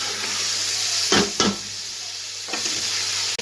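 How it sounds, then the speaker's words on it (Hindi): Mutton with tomatoes, green chillies and garlic-ginger paste frying in a pot, a steady close sizzle with a couple of brief scraping stirs of a spoon, no voices. "इन्हें ऐड करके हमने अच्छी तरह से भून लेना है ताकि हमारे टमाटर भी अच्छी तरह से गल जाए"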